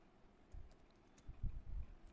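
Keys tapped on a computer keyboard while typing in Microsoft Word, coming as soft, uneven low thumps in short bursts, quiet and close, with no voices.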